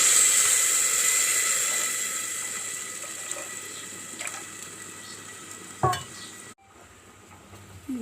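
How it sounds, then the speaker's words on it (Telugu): Tamarind extract is poured into an elephant foot yam curry cooking in a pan, giving a steady close wet sizzle and stir with a brief splash near the end before a quieter simmer. "ఇందులో చింతపండు గుజ్జండి, చింతపండు పులుసు పోసుకుంటున్నాను"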